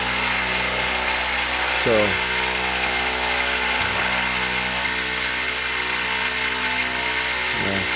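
Motor on a rotary switch commutator rig running at a steady 3600 RPM, giving a loud continuous whine with strong even tones and brief dips in pitch; a voice speaks one short word over it.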